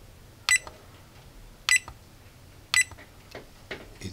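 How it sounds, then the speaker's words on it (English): An XY6008 DC regulated power supply module gives three short, sharp electronic beeps roughly a second apart, close and clear over a quiet background. "here it is the beeping signal"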